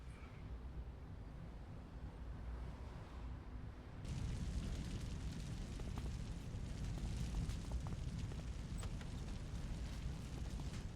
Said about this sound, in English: I have a bomb to set